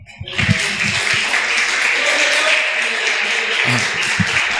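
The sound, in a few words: audience applause in church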